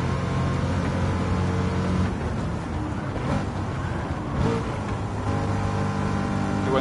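A Ford Mustang GT roars through a Gran Turismo 7 race with a continuous loud engine drone and shifting revs, joined by the hum of nearby rival cars. No voices are heard.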